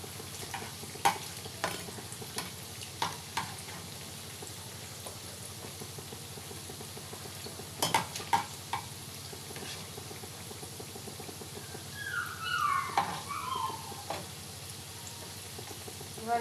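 Semolina rasgulla sweets sizzle softly in oil while a utensil stirs and clinks now and then against the pan, steady and fairly faint.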